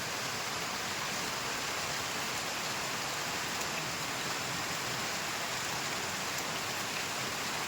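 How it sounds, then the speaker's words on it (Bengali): Heavy rain pours down in a continuous, even hiss that fills the whole scene, a dense and unbroken roar of water with no voices and no pauses. "বৃষ্টির কি আওয়াজ"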